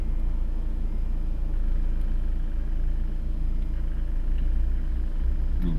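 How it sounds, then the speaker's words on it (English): Car engine running steadily under alternator load, a continuous low mid-pitched drone with only slight changes in speed, heard close and alone for the full length. "you can hear the engine speeding up and slowing down as the load goes on the alternator."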